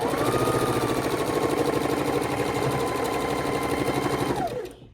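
A sewing machine stitches half square triangle pieces of a quilt top, running in a steady, close, continuous whir for several seconds before slowing and stopping at the end.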